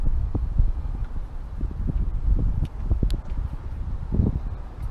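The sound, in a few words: wind outdoors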